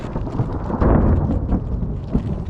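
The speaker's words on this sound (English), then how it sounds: "the thunder hasn't stopped, but the rain has stopped" Low thunder rumbling outdoors just after rain has stopped at a home building site, a loud, rolling rumble that swells and fades over a couple of seconds.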